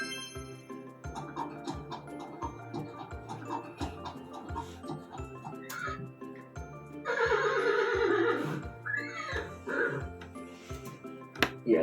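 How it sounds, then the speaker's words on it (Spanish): A horse whinnies loudly and shakily near the end, after a steady rhythmic clip-clop-like beat that runs through the clip. "¿qué animal es? Un caballo."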